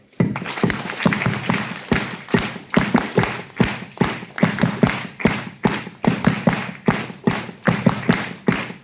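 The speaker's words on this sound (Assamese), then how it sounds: "তালি মাৰক" An audience at a motivational business meeting claps together on cue, a loud, even, rhythmic run of sharp claps that keeps a steady beat throughout with no talking over it.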